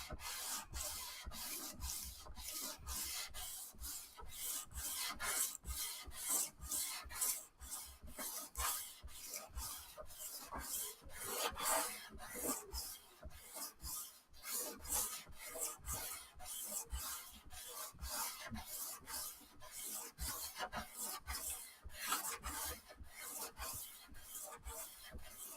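Sandpaper of 240 grit rubs a rosewood fretboard on a vintage classical guitar in quick, regular back-and-forth strokes, a soft, close scratchy rasp repeating steadily throughout.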